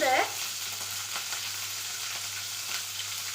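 Green chili dropped into hot oil for a curd rice tempering: a brief sharp crackle at the start, then a soft, steady sizzle held at moderate loudness.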